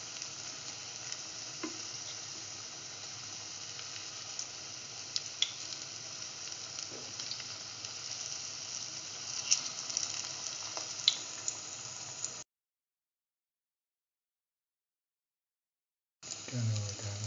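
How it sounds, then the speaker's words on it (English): Split chickpea fritters fry in hot oil with a steady, even hiss and small pops; the sizzle cuts out for a few seconds, then comes back. "Turn over the other fritters."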